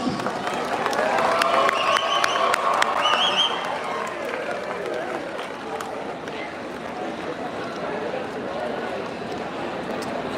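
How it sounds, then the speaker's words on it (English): Students applaud and cheer for a guest at a college speech event, a dense crowd of clapping that is loudest early and then settles into a steady roar, with faint voices and a few shouts mixed in. "Please give a big round of applause"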